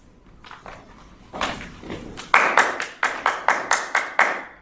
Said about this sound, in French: J'applaudis pour la madame.